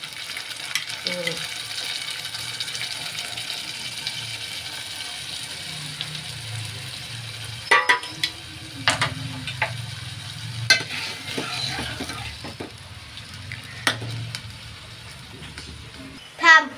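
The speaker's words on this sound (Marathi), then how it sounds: "आता वरण करते, वरणात फोडणी देते." Dal being tempered with cumin, mustard seeds and curry leaves in a home kitchen, oil sizzling steadily with scattered clinks and stirring taps and a louder clatter at the end.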